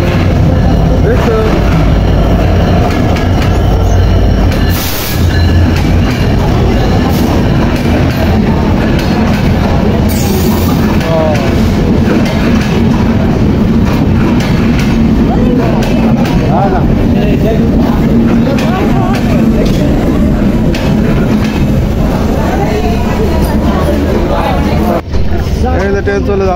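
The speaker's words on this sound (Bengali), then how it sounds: "ট্রেন চলে যাচ্ছে, ট্রেন চলে যাচ্ছে" A train passes along a railway with a loud, continuous rumble and rattle lasting throughout, while voices murmur underneath.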